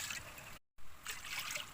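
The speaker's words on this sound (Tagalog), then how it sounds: "Lagyan na natin ng tubig." Water is poured into a wok-style frying pan while cooking pork, a close, steady trickling splash interrupted by a brief break before resuming.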